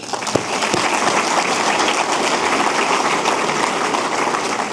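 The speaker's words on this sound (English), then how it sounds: "Please join me and give another round of applause." Steady, loud audience applause fills the hall during the 2017 Fresno State of the City speech, a dense uninterrupted wash of clapping with no voices over it.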